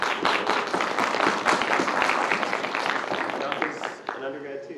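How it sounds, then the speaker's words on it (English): An audience claps through a round of applause at a conversation with an author about his novel Martyr!, a dense crackle of many hands lasting about four seconds before a voice begins speaking. "Will you guys give Priyanka a round of applause?"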